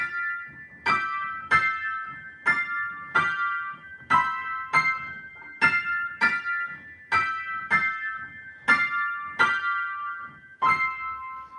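Bright, bell-like keyboard chords play an ending chord progression in a steady, evenly spaced rhythm, about a dozen struck chords, each decaying before the next.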